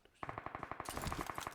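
Automatic rifle fire in the mobile battle royale game PUBG Mobile, a rapid unbroken burst of evenly spaced shots that starts abruptly and runs steadily to the end, loud and near.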